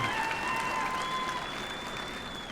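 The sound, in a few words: graduation ceremony audience applauding graduates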